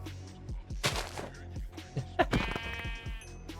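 Several sheep bleat in short overlapping calls against busy Minecraft Nomifactory game sounds, moderately loud with a few sharp clicks between.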